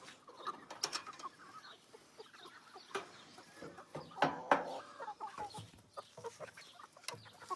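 Small backyard chickens, pullets, clucking and chirping in short bursts over a hot summer day, with brief sharper calls standing out and a continuous flock chatter nearby, no voices.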